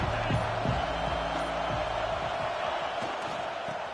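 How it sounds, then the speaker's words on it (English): A college football stadium crowd roars in a broad, continuous wash of noise, with a few sharper shouts and thumps near the start before it settles slightly. "This crowd ready to make its presence known."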